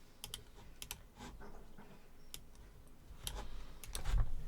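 Computer keyboard typing during a regex workflow setup, with scattered light key taps and short bursts of clicks, fairly quiet and close, with no talking.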